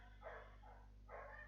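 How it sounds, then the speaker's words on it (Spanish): Neighbours' dogs bark in several short bursts from a distance, faint over a steady low hum. "No son mis perros, son los perros de los vecinos."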